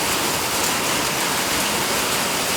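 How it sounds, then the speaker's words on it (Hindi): Rain beginning to fall outside, a steady broadband hiss that fills the whole moment with no gaps or distinct drops standing out, fairly loud and with no talking. "बाहर बहुत मौसम तक बेकार हो रहा है और भाई बारिश चालू होने लगी"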